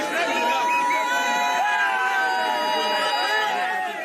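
A dense crowd of protesters in Mabanda, Douala, shouting and cheering together, a continuous loud hubbub of many voices with whoops rising above the babble throughout.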